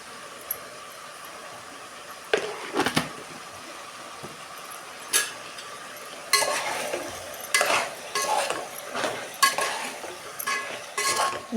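Fish curry cooking in a pan, a soft simmer under a series of scraping stirs and metallic utensil clinks on the pan, close and fairly quiet, no voices.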